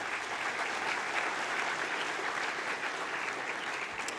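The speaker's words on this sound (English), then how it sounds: "if we can give our sporting coaches a round of applause" Dense, sustained applause from an audience honouring sporting coaches at a school gathering, even and full throughout with no break and no voices over it.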